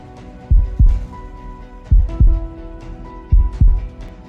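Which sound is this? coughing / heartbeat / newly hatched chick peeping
heartbeat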